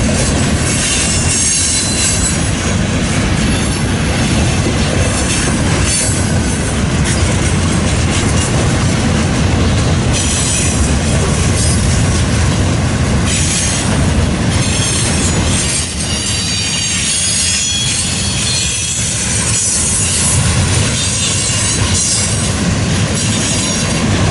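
A long freight train rolls past close by, its cars rumbling loudly and continuously while the wheels squeal and grind against the rails and joints clatter underneath, with no talk.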